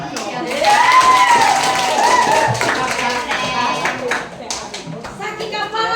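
Students and teachers at a junior high school information session clap their hands, a brisk burst of applause mixed with a loud voice and children's chatter that fades toward the end.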